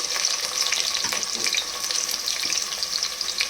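Chopped onions sizzle in hot oil in a pan for a spiced fenugreek rice dish, a loud, steady crackling hiss with occasional stirring scrapes, close up and without talk.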